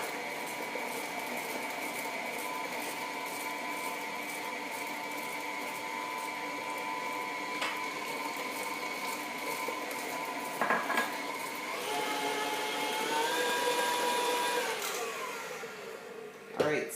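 An electric mixer at medium speed beats eggs into ginger cookie dough, a steady whirring drone with the beaters knocking against the bowl, rising and shifting pitch near the end, with speech partly over it.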